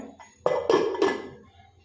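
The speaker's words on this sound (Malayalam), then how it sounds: "അതിനുശേഷം നമുക്ക് കുക്കർ അടയ്ക്കാം." Three quick metallic clunks ring out close by as a pressure cooker lid is pressed down and locked onto the cooker.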